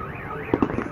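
A firework bursting, two sharp close pops in quick succession over a steady background hum, short and moderately loud.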